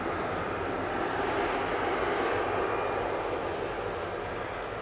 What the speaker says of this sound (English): EasyJet 2103 departing to Nice there. GZWI A320 Classic on the roll.